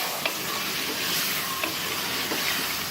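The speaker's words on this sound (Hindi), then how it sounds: "आलू डाल के भी मैं इसे 2 से 3 मिनट अच्छी तरह से भून लूँगी" Potatoes frying and being stirred into a masala over a medium flame for aloo chaney, a steady close sizzle with scraping stirs throughout and no talk.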